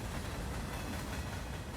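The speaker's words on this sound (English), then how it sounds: "Hold on, we had a train at the end?" A steady, dense rumble of a train rolling past, broadband noise with no distinct clacks, constant and fairly close, with no voices, at the end of a song.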